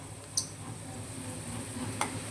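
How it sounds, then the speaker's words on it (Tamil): Food sautéing in a pan, a soft continuous sizzle with two faint clinks of a utensil against the pan. "இந்த நல்லா வதங்குது பாருங்க, வதங்குது"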